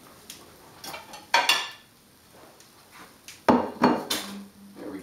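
Dirty dishes clatter and clink as they are set into a kitchen sink, several sharp bursts of ceramic and metal knocking close by, with quiet gaps between.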